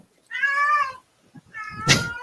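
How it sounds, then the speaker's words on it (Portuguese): A house cat meows twice indoors, each call a clear, drawn-out tonal cry of under a second, the second rougher and louder with a breathy edge, close to the listener with a short quiet gap between them. "E agora chegou o gato."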